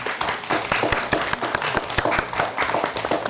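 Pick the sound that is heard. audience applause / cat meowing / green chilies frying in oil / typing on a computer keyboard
audience applause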